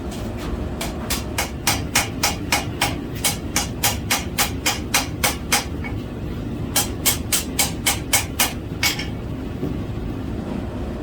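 Hammer blows ring on a forge weld at an anvil, struck in quick regular bursts of sharp metallic strikes with short pauses between runs, loud and close.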